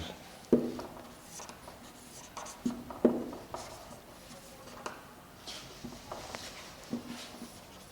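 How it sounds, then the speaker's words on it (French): Quiet scratching of a pencil drawing two diagonal lines on paper, soft strokes with a few light taps between them, close and faint. "Je dessine les deux diagonales."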